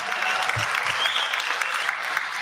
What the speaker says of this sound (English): So a big round of applause to Regenesys Business School.